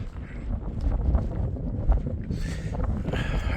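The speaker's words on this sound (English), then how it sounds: "I can't express to you how windy it is out here right now." Strong wind on a winter coast with snow and sea foam, a constant rough gusting roar buffeting the microphone, loud and unbroken with no voices.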